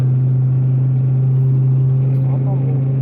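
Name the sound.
car engine running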